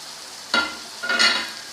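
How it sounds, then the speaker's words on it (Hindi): Chicken frying in a pan for a Patiala murgh curry, a steady broadband sizzle with two louder bursts of hissing and stirring, close by, with no talk. "देखिए चिकन को भूनते हुए तकरीबन 2-3 मिनट हो गए हैं"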